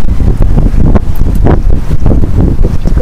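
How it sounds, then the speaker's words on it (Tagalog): Strong typhoon wind on the coast at Nasugbu, Batangas, buffets the microphone in loud, continuous gusts that roar and rumble throughout. "Nadadala ako sa lakas ng hangin eh."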